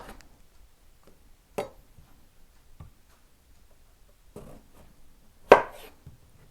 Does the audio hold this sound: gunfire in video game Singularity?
no